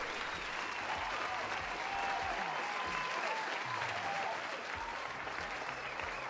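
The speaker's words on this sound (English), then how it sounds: "Give him a round of applause." A round of applause from a small audience, even continuous clapping that stays at a moderate, fairly distant level throughout with no talk over it.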